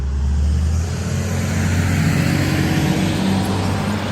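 A truck rumbles along a street with a continuous low engine drone and road noise, loud and steady throughout, no voices.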